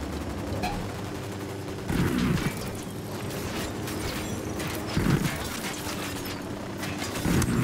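Gunfire in the tactical shooter Ghost Recon Wildlands: repeated bursts of shots at about two, five and seven and a half seconds over a steady mechanical background rumble, with no talking.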